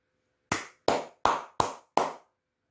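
Five sharp, close hand claps in otherwise quiet surroundings, evenly spaced and each ringing briefly before the next.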